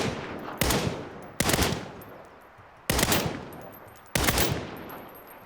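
Distant gunfire tails in the video game Saints Row: four separate booming bursts with rolling decays, spaced irregularly a second or so apart, with no voices over them.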